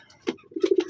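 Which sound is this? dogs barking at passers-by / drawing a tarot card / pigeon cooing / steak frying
pigeon cooing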